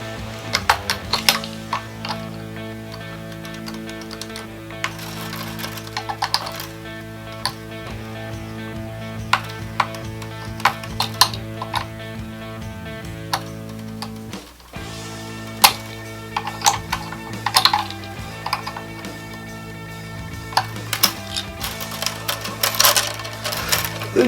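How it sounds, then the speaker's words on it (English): Bass guitar strings being loosened at vintage-style tuners: sustained low string drones with repeated small metallic clicks and ticks from the tuning pegs, close and moderately loud. "Go ahead and loosen them up."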